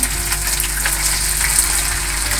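Potatoes fry in a pan with a steady close sizzle and crackle of oil, and faint scraping hints at them being turned over.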